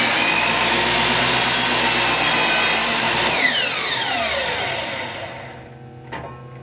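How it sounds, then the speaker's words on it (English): A motorized miter chop saw cuts through wood with a loud, steady whining roar, then the blade spins down in a falling pitch after the cut, ending with a faint clunk. "When you are all done using the chop saw, you will not only have trimmed this end so it's square"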